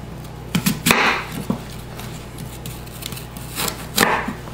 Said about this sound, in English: slice your apple.